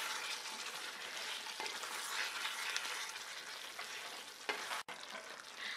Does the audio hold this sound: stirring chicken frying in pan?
yes